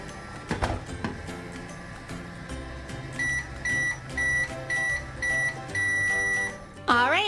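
A toy microwave hums with a steady run of evenly spaced electronic beeps, then ends in a rising warbling chime; a brief child-like squeak opens it, all fairly close and clear.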